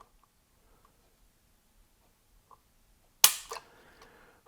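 A Walther Q5 Match steel-frame competition pistol is dry-fired on an empty chamber: one sharp, close metallic snap of the striker, a brief rattle of the action settling, then near silence.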